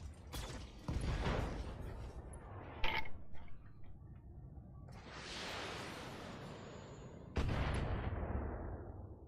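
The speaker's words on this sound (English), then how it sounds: "Firing on multiple enemies." Mech weapons firing in the BattleTech video game: a few sharp blasts followed by sweeping, hissing bursts and rumbling impacts spread across the clip, fairly loud with no talking.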